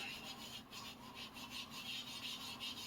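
Steady scraping rub against the metal tang of a Minamoto sujihiki knife, stripping away rust, with rhythmic back-and-forth strokes close by and no talking.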